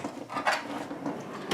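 A tool chest drawer in a small garage slides with a short rolling, rattling scrape, close and fairly loud, with no one speaking.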